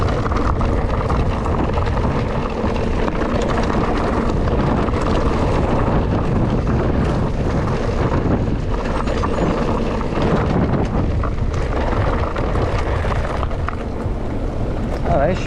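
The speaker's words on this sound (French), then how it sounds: "Ah, il y a un vent." Wind gusting across the microphone while mountain biking on alpine trails, a loud, steady rushing roar with rumbling buffeting that persists throughout and no clear speech.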